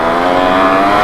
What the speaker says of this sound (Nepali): दुईवटा बाइक 2 स्ट्रोकको आवाज कत्रो आयो होला सम्झिनु न